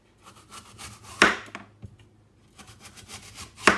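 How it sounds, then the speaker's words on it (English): A kitchen knife cuts apples into slices, giving soft scraping cuts and a few sharper taps against the cutting board spread over a few seconds, close and fairly quiet. "we're gonna go ahead and cut these apples into slices"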